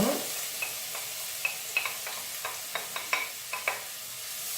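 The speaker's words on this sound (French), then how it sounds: "je vais y ajouter ma carotte et mon oignon" Carrot and onion sautéing in hot olive oil in a sauté pan, a steady soft sizzle broken by a series of sharp ticks and scrapes as the vegetables are stirred, close and fairly quiet, with no talk.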